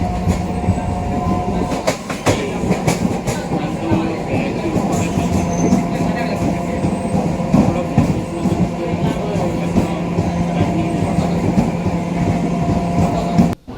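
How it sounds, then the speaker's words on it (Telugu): A MEMU passenger train pulls away from Kothur station after a one-minute halt, heard from inside with a loud continuous rumble, rhythmic wheel clatter and occasional metallic squeaks and clunks. "ఇక్కడ 1 నిమిషం హాల్ట్ తర్వాత మన ట్రైన్ తిరిగి బయలుదేరింది"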